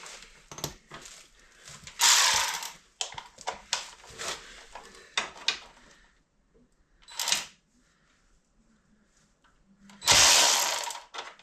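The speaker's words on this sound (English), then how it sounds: "I'm going to need a 10 mil to remove the bolt holding the skid plate on." Ratchet with a 10 mm socket loosening the skid plate bolt on a Yamaha ATV, quick close clicking strokes in short irregular runs, with louder rustling bursts and quiet gaps between.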